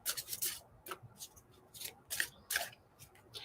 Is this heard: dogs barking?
no